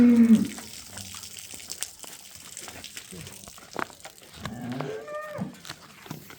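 A cow moos a few times, low drawn-out calls with a rising tone near the end, over faint rustling and background noise.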